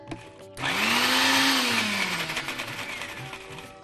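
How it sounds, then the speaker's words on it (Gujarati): A kitchen blender grinds green chutney with lemon juice and ice, starting abruptly with a loud whirring roar that rises in pitch, then settles into a steady grind and gradually eases. "હવે પાછું મશીન ચાલુ બંધ કરીને આપણે ક્રશ કરીશું."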